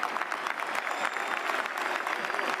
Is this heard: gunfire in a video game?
no